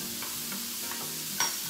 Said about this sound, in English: we will go ahead and saute this until it starts to be tender